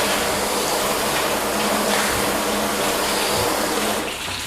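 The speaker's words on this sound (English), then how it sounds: "Let's flood this entire bottom section." Steady, loud rush of rinse water flooding over the lower panels of a car during a ceramic quick detailer test, a continuous broadband hiss holding constant before easing slightly at the end.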